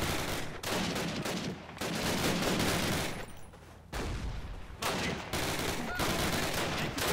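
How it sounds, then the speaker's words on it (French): In the first Call of Duty game, a World War II shooter, an 88 mm cannon and other weapons fire in dense, loud, continuous barrages with brief pauses between volleys. "Il y a canon 88 qui tire là."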